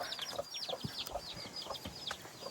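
Chickens cluck repeatedly in a farmyard, with a string of short, overlapping calls and chirps from several birds close by and at moderate volume.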